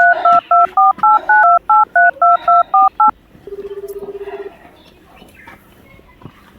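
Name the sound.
telephone number being dialed, DTMF tones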